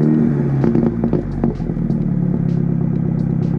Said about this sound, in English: Now when it comes to cold starts, because I have the exhaust switched to open full time, it sounds really, really cool